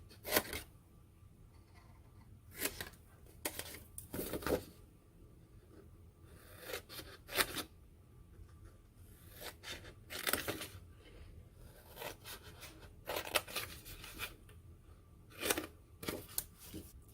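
Scissors cutting scored paper while making a craft tray, a series of short crisp snips and rustles in irregular bursts, close and quiet, with no talking.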